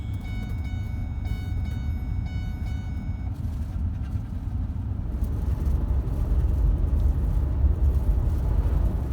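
Car driving home out of the woods after a bee hive removal, a steady low road rumble and engine drone filling the interior, with faint tonal whine early on and the rumble growing slightly louder.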